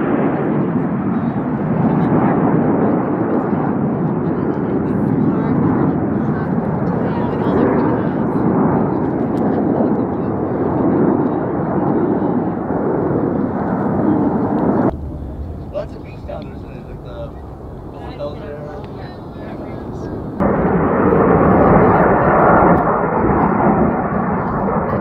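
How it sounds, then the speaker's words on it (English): Loud roaring jet engines of air show planes rumble continuously overhead, briefly dropping to a quieter hum before the roar surges back. "airplanes"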